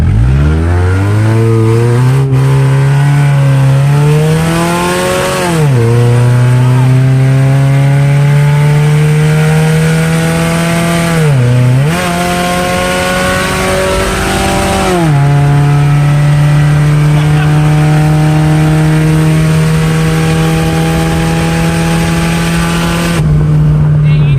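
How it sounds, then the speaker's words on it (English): A car engine revs hard and drones loudly for a long stretch as the back tires drag, the pitch surging and dipping several times. "I don't know if we were spinning or if we were just dragging the back tires"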